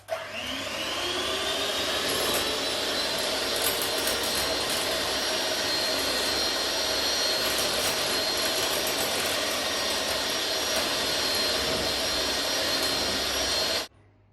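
An electric mixer beats sugar into eggs for brownie batter, a loud, steady high-pitched whine that runs continuously and cuts off abruptly at the end.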